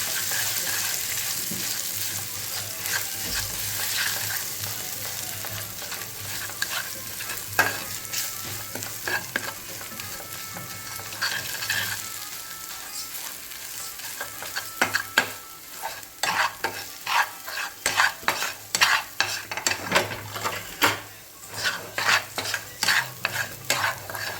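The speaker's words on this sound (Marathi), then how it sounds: "आता ह्यात आपण हे केलेलं वाटण टाकून घेऊ वाटण चांगलं भाजून घ्यायचं आहे" Ground masala paste roasting in a pan after tomato, giving a loud continuous sizzle with frequent scraping stir strokes that grow choppier and more rhythmic toward the end.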